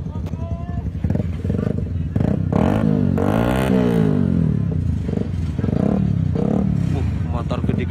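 Big motorcycle engines rumble and rev nearby, rising and falling as bikes ride past on leaving Klayar Beach in Pacitan, mixed with people talking over the noise.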